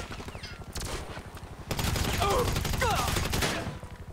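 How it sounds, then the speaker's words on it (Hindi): Machine gun fire in GTA 5: quick, steady bursts of shots, lighter at first and then a loud, sustained rattle in the middle before it eases off. Brief voice-like chirps sound over the shooting. "ये मशीन गन, मशीन गन।"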